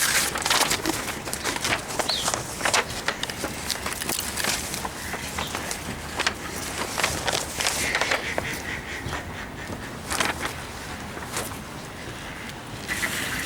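Birds scatter and fly off at Pelican Pond in an outdoor aviary, giving a busy mix of flapping bursts and scattered calls and coos that rise and fall across the whole stretch.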